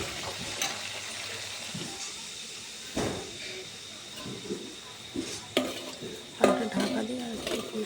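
Fried potatoes go into a pan of braised spiced meat and are stirred, scraping and clinking against the metal with a faint steamy hiss, the strokes growing louder and busier toward the end.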